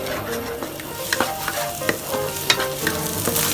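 Egg being stir-fried for crab fried rice on an induction stove gives a constant close sizzle, punctuated by regular sharp spatula scrapes and taps against the pan.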